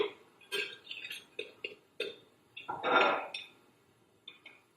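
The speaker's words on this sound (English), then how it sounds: "I'm just going to cut a slice so you can see and so I can taste" A knife saws through a crusty loaf of Irish soda bread in short, separate crunching strokes, close and crisp, with a louder rasping cut near the end and quiet gaps between; no talking.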